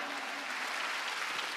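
Congregation at a church service clapping together, a dense steady wash of applause held at even loudness for a moment with no voices on top.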